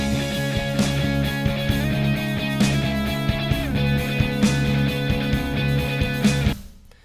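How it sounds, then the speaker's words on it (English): A clean, dry, unprocessed guitar plays a steady rhythmic part with plucked notes and muted strums, then stops abruptly. "So the next guitar that is occurring"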